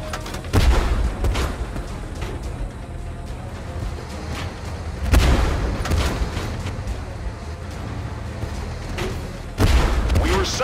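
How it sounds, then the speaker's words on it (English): Artillery bombardment in the Tank Force tank battle game: three heavy booming explosions land several seconds apart over a constant rumbling backdrop, loud and close. "under bombardment!"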